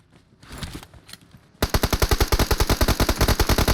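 A PUBG Mobile battle with fainter shots and clatter at first, then loud, rapid automatic gunfire in a steady burst of evenly spaced shots that runs to the end, close up and with no talking.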